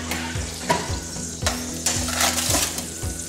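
Crispy-skinned pork belly, cooked about 35 minutes with apple cider vinegar added, crackles and sizzles close up. Sharp scraping strokes recur every half second or so over a steady frying hiss, with no talking.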